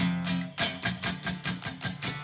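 A muted, buzzy guitar chord strummed repeatedly in a steady rhythm, each stroke thuddy and choked rather than ringing clearly, heard up close.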